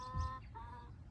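A chicken near a backyard coop gives a short, soft cluck followed by a faint trailing call, brief and fairly quiet over low background noise.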